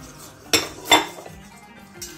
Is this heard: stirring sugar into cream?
yes